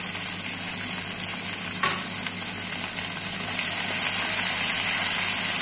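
Carrot, potato and spring beans stir-fry in a hot pan for spring roll filling, a steady close sizzle with scraping stirs and one sharp clack partway through, no voices.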